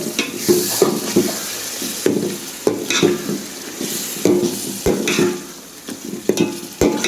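A spoon stirs yogurt into prawn biryani in a pot, with repeated scraping and clinking strokes over a soft, wet sizzle, close and moderately loud without any talking.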